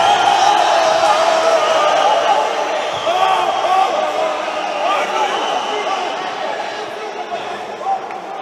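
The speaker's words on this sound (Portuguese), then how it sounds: "Fica eufórica a torcida do Amambai ali pedindo falta." Amambai supporters at a Copa Morena 2019 futsal match against Mundo Novo roar euphorically, demanding a foul: a dense, steady crowd din that stays loud throughout, fading only slightly toward the end.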